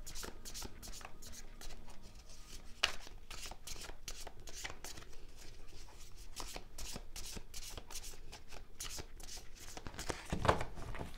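A tarot deck is shuffled by hand, giving soft, continuous riffling and flicking of cards with occasional sharper snaps, quiet and close.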